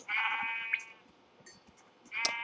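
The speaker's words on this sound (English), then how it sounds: "Oh, a sheep!" A sheep in a Minecraft-style video game bleats twice, a near, nasal wavering cry at the start and another near the end, with quiet background between.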